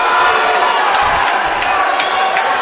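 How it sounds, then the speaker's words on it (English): Spectators at an Indiana senior state swimming finals roar as two swimmers race to the finish, a loud, steady wall of crowd cheering and whooping filling an indoor natatorium. "And the fans now on their feet cheering these two swimmers home."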